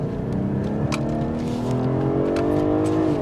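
A BMW 840i engine accelerating up close, a steady rising drone with climbing harmonics as the revs build, heard from inside the cabin.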